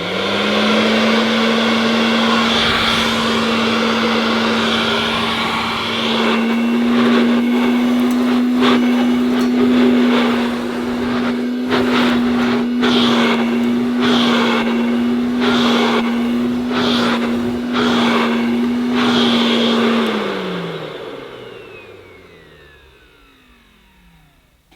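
A 1979 Hoover Dustette 2614C handheld vacuum cleaner runs during a suction test, a loud, close, steady motor drone with rattling clicks and knocks over it, then spins down and fades at the end.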